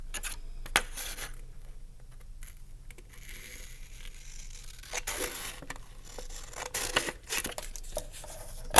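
Scissors make long cuts through paper, giving a series of close, crisp snipping and sliding sounds with rustling between them and no talking.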